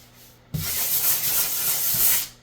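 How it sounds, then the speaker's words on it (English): Fine-grit sandpaper rubbing across a drywall patch, a steady close scratchy hiss lasting about two seconds with a couple of slightly stronger strokes, no voices. "So the finer the grit of the sandpaper, the less scratching you get."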